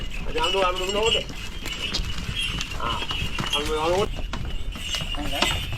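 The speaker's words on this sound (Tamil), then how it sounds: "மாடு பாருங்கள், ஒரு ஸ்டெப்பு அங்கே வைக்குது, அடுத்த படிக்கட்டு இங்கே வைக்குது." Two bullocks climbing temple stairs at Chennimalai Subramanya Swamy temple in Tamil Nadu, hooves clopping unevenly step by step under ongoing nearby talk and background noise.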